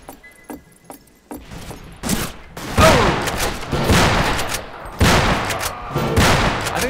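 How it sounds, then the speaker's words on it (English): Shotgun fire in the video game Fistful of Frags comes as several loud, booming blasts spaced a few seconds apart, after a few light clicks and rattles at the start. "got three in a row with a shotgun"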